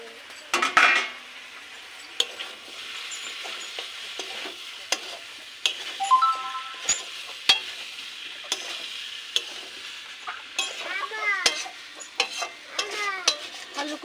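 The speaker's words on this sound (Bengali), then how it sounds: "তো এখানে মাংসটা ভালো করে কষানো হোক" Chicken pieces with potatoes are stir-fried in a pan, a steady sizzle broken by frequent sharp scrapes and clinks of a spatula against the metal, close and moderately loud.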